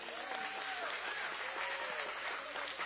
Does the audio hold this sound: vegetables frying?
no